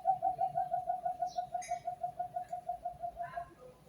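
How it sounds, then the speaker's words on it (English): Cuckoo bird calling from a mango tree beside a house in a suburban neighbourhood of Ormoc City, Leyte, Philippines: a steady, rapid train of identical hollow whistled notes, clear and fairly close, with faint background sounds and no talking. "that's my cuckoo bird right there"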